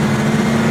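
A 1968 Pontiac GTO engine under way gives a loud, close, steady droning hum with a strong low buzz and no break in the note.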